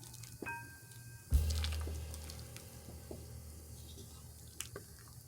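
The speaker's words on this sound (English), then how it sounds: "Give that a good stir." A chicken meatball orzo soup being stirred in a pot, with a wet squishing swirl, a soft clunk as the spoon goes in, and faint drips, close and fairly quiet.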